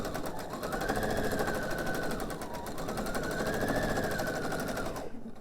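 A sewing machine stitching fabric pieces for a pillow with 50 weight thread runs in a steady, fast mechanical chatter with a rising and falling whine, close and continuous before stopping abruptly near the end.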